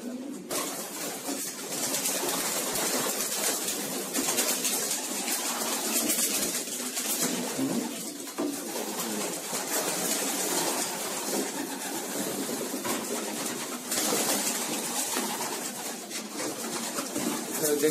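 Racing pigeons in a spacious loft coo softly amid a steady, dense backdrop of rustling and chatter-like ambient noise, the birds' calls blending into a continuous wash rather than standing out alone.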